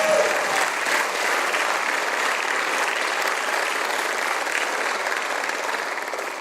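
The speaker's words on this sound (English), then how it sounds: "One more round of applause for all of our students." A large audience at a school district event applauds its students, a broad, sustained roar of clapping that stays full and even from start to finish, easing only slightly at the end.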